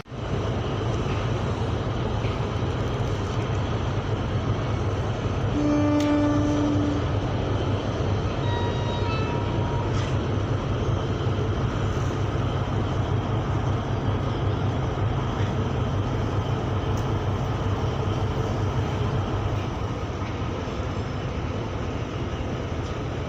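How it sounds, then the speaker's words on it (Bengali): A passenger launch's engine drones steadily as the boat slowly comes up from behind, a loud, continuous low rumble with no break. "ওই যে লোকটার পিছনে একটা লঞ্চ আমাদের পিছে আস্তে আস্তে চালিয়ে আসতেছে।"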